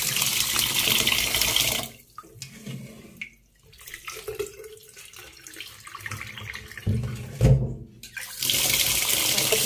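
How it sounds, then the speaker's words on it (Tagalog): Glutinous rice is washed under a running tap, loud rushing water at the start and end with quieter sloshing, swirling and splashing of grains in between, close by. "Hugasan na po natin. Para po mawala yung dumi ng ating malagkit."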